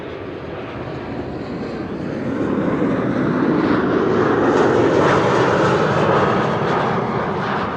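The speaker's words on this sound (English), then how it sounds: "Next to land here on the Kaagbaan is this KLM flight 984 arriving from London" A KLM Embraer 190 jet landing on the Kaagbaan runway at Amsterdam Schiphol on a frosty day, its broadband engine roar steady and fairly loud, swelling as the aircraft passes nearby, with no talk.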